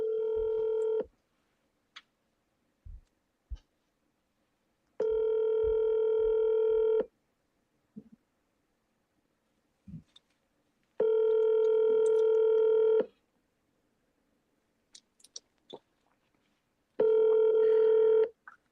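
Telephone touch-tone dialing heard during a phone call: four long steady multi-tone beeps spaced a few seconds apart, loud and clear, with faint clicks and small noises in the quiet gaps.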